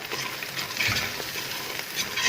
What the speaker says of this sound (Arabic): هنحمرهم مع البصلايه تدينا طعم حلو جدا